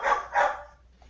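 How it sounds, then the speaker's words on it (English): A dog barks twice in quick succession, excited at people arriving home, fairly close and loud, followed by a faint short yelp. "my roommates came home and the dog is freaking out about them"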